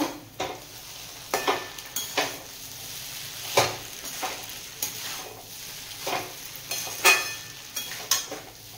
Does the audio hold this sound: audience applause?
no